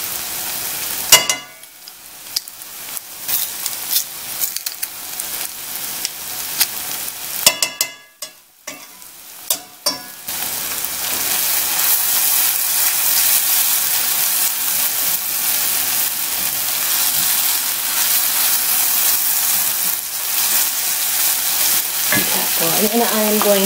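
Ground beef for beef wellingtons cooks down in a pan with a steady, fairly loud sizzle. Intermittent stirring scrapes mark the first ten seconds, and the frying then settles into a continuous hiss.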